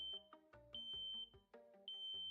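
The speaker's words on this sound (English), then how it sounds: "Smoke particles enter the chamber. The flow is interrupted, and the alarm is triggered." An ionization smoke alarm sounds in a quiet room, its shrill high beep cutting in and out in repeated pulses mixed with other faint tones.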